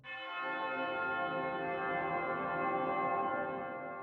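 Far bells preset from the Audiobro SILVER library, a distant, shimmering bell tone that swells in softly and sustains evenly with rich ringing overtones, quiet and alone throughout.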